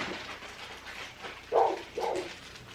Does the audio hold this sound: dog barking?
yes